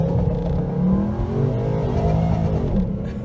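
A supercharged 2019 Ford Mustang GT accelerates hard on the street, a loud close engine roar rising in pitch through a short full-throttle pull.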